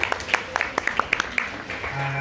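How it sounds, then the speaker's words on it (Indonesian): Scattered handclaps from an audience at a school quiz semifinal, sparse and uneven, with faint background murmur and a brief voice under the claps. "Oke, tepuk tangan semuanya."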